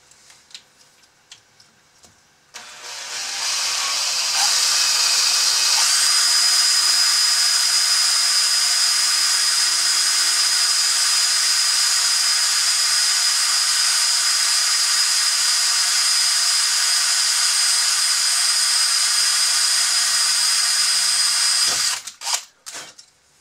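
A cordless driver runs steadily for about twenty seconds, screwing down the tipper mechanism on a Bruder Volvo dumper toy, with a continuous close whine that starts and stops abruptly.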